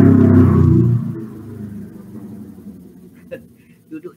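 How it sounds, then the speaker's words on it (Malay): A neighbour's motorcycle rumbles outside, a low engine drone that is loud at first and then fades into the distance, with faint traffic noises afterward. "Duduk di luar ni bunyi motor semua ni."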